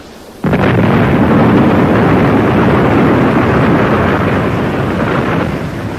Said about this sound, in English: There was a loud explosion.